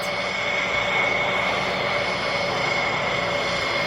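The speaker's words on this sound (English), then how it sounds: "The plane was now getting closer to the factory airport." An airplane nears a factory airport with a steady droning engine hum and a thin, constant whine that holds evenly throughout.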